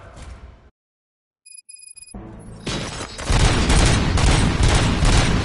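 Loud bursts of gunfire in the video game RoboCop: Rogue City erupt after a brief silence, growing into a dense, continuous fusillade with booming impacts.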